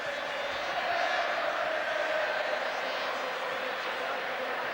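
A huge crowd fills Wembley at the 1983 Challenge Cup Final, Featherstone Rovers against Hull, heard as a broad, steady roar from the stands in sunshine, with a commentator's voice riding over it.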